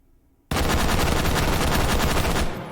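H51 rifle with a muzzle brake fired in the H3VR virtual reality game: after a short quiet moment, a loud, rapid automatic burst of close gunshots runs for about two seconds, then cuts off.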